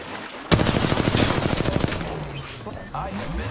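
Gunfire in the video game Apex Legends: a sudden, loud burst of rapid automatic shots that rattles on for about a second and a half, then gives way to quieter shots and game noise.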